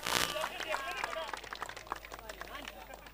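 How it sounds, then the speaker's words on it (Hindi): A crowd claps for a winning player at a local cricket league prize ceremony, brisk applause fading under a loud voice talking over it. "लेडीज एंड जेंटलमैन, जोरदार तालियां होनी चाहिए रेहान पठान के लिए"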